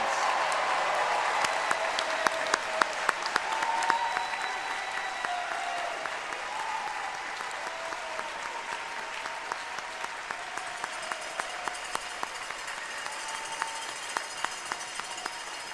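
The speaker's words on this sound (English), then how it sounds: "Let's have another round of applause for our bachelor's degree recipients." An audience applauds bachelor's degree recipients at a music school commencement ceremony, a steady, full round of clapping from a large hall that carries on without letup.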